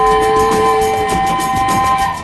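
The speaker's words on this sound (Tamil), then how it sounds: "கூவென்று ஒலிப்பது புகை வண்டி" A steam train whistle sounds a loud, sustained multi-toned blast, holding steady for about a second before fading slightly, with rail rumble beneath.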